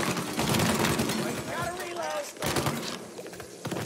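Gunfire in Mafia: Definitive Edition, rapid shots crackling through loud game action and music, with a voice talking over the fight.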